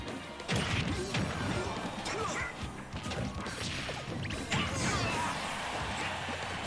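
Heavy smash-and-crash hits from an up smash attack in Super Smash Bros, several loud impacts with whooshes in between, set over a steady bed of game sound.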